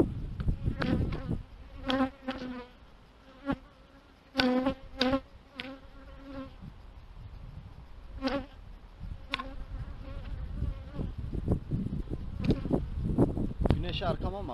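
Honey bees buzz around an open beehive during a beekeeping inspection, a steady swarm drone close by with louder passes from individual bees, someone talking intermittently over it.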